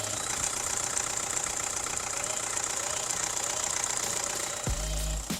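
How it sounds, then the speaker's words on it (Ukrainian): A 2011 Opel Zafira 1.7 diesel engine idles steadily close by, a continuous knocking rumble with an even rhythm, briefly dipping near the end. "Як він заводиться, послухаємо роботу двигуна."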